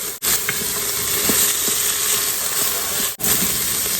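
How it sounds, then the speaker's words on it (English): Garlic sizzling in a hot pan with previously sautéed vegetables for vegetable soup, a steady close frying hiss with faint crackles and occasional stirring clicks, briefly cut off twice. "now we're going to go in and add our garlic. Saute for another minute."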